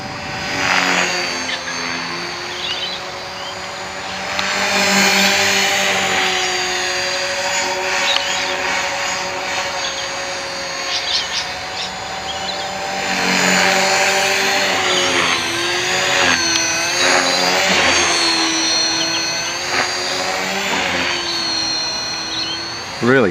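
A 450 Pro RC helicopter with a troublesome tail flies nearby, its motor and rotors whining and shifting in pitch as it climbs and maneuvers, loud and continuous, with a voice talking over it.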